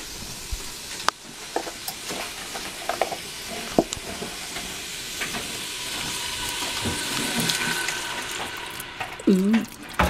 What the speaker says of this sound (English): add the beef sauce.